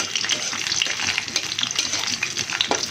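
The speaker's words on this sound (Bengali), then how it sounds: "শুকনো মরিচ ওঠানোর পর আমি দিয়ে দিলাম রসুনের কোয়াগুলি, বড় কোয়াগুলি।" Large garlic cloves frying in a pan of oil just after dried chilies were lifted out, giving a steady, close crackling sizzle with small pops and scraping stirs throughout.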